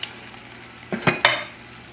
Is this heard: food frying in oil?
yes